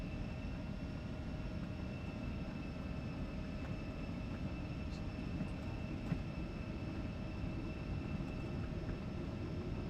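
Simulated ERJ-190 jet in X-Plane 12 rolling for takeoff, a steady roar of engine and rumble with a faint high whine, continuous and unchanging throughout, with no voices.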